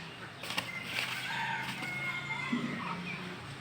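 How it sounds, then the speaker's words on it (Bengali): Two large roosters squawk and cluck in a scuffle behind a net screen as a duck intervenes, with a sharp flurry of wing flaps and short crowing cries over a steady outdoor hum. "জালের পর্দা দেওয়া মোরগের লড়াই চলছে মাঝখানে একটি হাঁস এসে যুদ্ধ থামিয়ে দেওয়ার চেষ্টা করছে"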